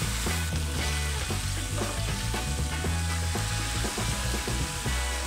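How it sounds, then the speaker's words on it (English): Short ribs sear in a hot pan, browning on the meaty and bone sides, with a loud, steady sizzle and crackle that runs without a break. "Roast the ribs until they are nice, rich, dark brown from all the sides, which will seal the juices in."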